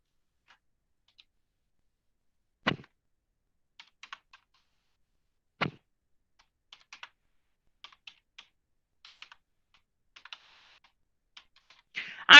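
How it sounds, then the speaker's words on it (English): Sparse, irregular clicks of typing on a computer keyboard, close and quiet, with a couple of louder key strikes and a burst at the end, no talk. "And then we're going to type again."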